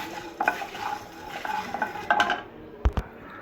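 Kashmiri and regular dried red chillies frying in a pan for Mysore rasam, a soft sizzle under repeated scraping and stirring clinks of a spoon against the pan, ending in two sharp taps.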